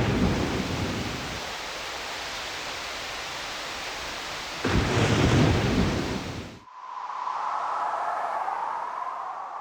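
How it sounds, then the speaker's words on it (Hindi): Thunderstorm: a heavy, steady roar of rain and wind with a loud crash of thunder partway through. It gives way to a softer, hollow rumbling wash of rain. "भयानक तूफान, कड़कती बिजलियां"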